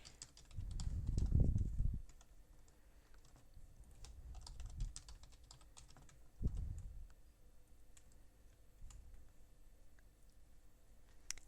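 A password typed on a computer keyboard, quiet scattered key clicks in short bursts alongside a few soft low thumps, close but faint.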